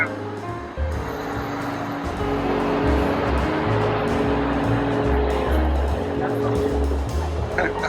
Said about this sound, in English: Again, a big truck in front of it.